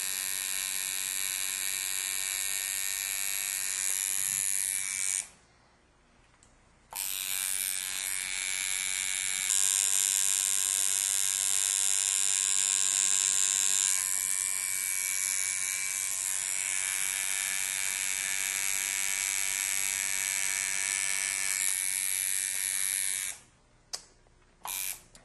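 Steady electric buzz of a tattoo machine running close and loud, holding a constant high-pitched whine for long stretches with a couple of short pauses where it stops and restarts; no one speaks.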